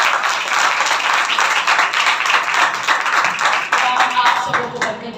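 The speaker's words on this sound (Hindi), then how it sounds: "जोरदार ताली बजाएं।" Loud, steady clapping from a congregation at a Sunday church service, dense and continuous for several seconds with voices mixed into the sound.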